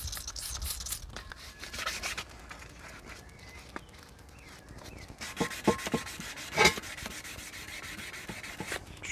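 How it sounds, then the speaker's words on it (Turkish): Repeated rubbing and scraping strokes of 800-grit wet sandpaper against a car wheel rim, soft and close, in irregular back-and-forth passes with a few brief louder scuffs. "Doğrusal hareket lerle her tarafını güzelce 800'de sulu bir şekilde zımpara yapalım"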